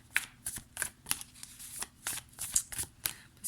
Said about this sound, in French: Je vais recouvrir les cartes ici